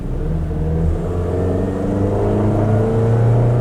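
A 2023 Toyota Tacoma SR access cab with the 2.7-liter four-cylinder engine revs steadily, its pitch climbing and easing in a sustained mid-range drone, close and loud with no talking.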